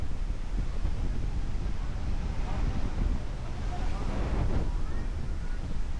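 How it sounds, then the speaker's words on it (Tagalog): Wind gusting steadily over a microphone outdoors on the Banahaw loop, a constant rough rumble with people talking underneath. "Presko ang hangin na, oh."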